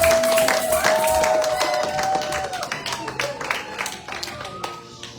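A church congregation at a Pentecost service clapping, with a few sharp individual claps standing out, loudest at the start and thinning toward the end while a voice carries on underneath.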